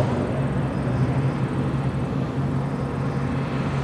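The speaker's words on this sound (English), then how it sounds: "The aileron roll, slow roll, in the P-51 Mustang." A P-51D Mustang fighter performs slow rolls at an air show, its engine producing a steady, loud, low droning roar that stays level throughout with no voices.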